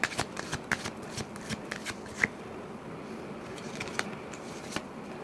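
A deck of tarot cards is shuffled by hand in quick, rapid riffles and soft flicks, close and fairly quiet, with no talking.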